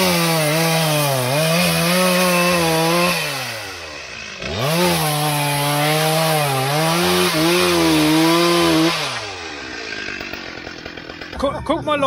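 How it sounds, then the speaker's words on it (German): A chainsaw cuts wood for an Easter bonfire, its engine droning loud and close with rising and falling revs before it tapers off near the end. "Und hier wird Osterfeuerholz gesägt."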